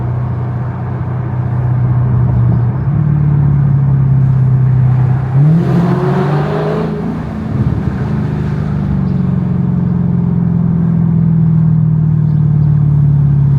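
A car engine runs steadily while driving after new brakes and rotors, a smooth low drone with a brief swell of revving midway, heard close and alone without talk.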